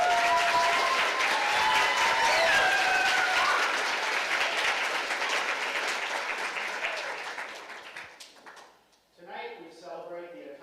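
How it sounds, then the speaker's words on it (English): An audience at a community festival ambassador coronation gives sustained applause that fades out after about eight seconds, followed by a person beginning to speak. "Please give another round of applause and appreciation of our outgoing ambassadors."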